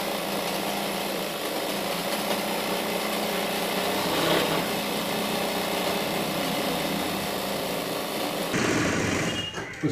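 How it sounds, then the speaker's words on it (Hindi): A sewing machine whirs continuously as it stitches trouser fabric, a steady close mechanical drone lasting nearly ten seconds before shifting tone briefly near the end. "दोनों को यहाँ पे बराबर करके सिलाई लगा लेना है हमको इस तरह से।"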